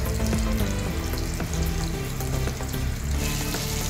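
Surmai (kingfish) sizzles and crackles steadily in a hot, uncovered pan, a dense, continuous frying hiss with occasional pops, close by and without speech.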